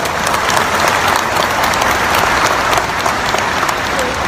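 Crowd of listeners at an Islamic religious lecture broadcast by Petren TV gives a loud, dense round of applause, steady and unbroken from start to finish.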